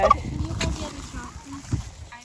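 Brief turkey gobbles and clucks sound close by in a short burst, over faint farmyard background noise on a goat farm.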